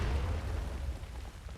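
A cannon firing in the War of Rights video game, a single deep low boom that rolls out and fades over about a second and a half, heard at a distance and fairly soft.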